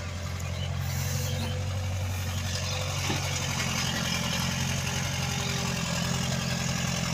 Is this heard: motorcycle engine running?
yes